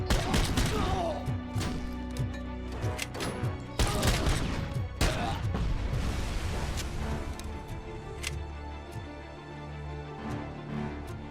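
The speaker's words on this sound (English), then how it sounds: "Who's shooting at me?" Gunfire in the video game RoboCop Rogue City: dense bursts of shots, thuds and impacts, loud and continuous, with a voice talking over the fight.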